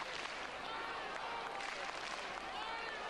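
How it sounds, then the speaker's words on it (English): A large sumo crowd at the Kyushu tournament in 2002 roars and chants for local wrestler Kaiho, a dense, continuous wash of voices and clapping with a voice speaking over it. "Well, the crowd chanting for Kaiho."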